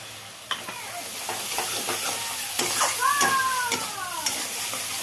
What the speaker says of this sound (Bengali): মশলা ভাজা হয়ে গেছে যে মশলার থেকে তেল ছেড়েছে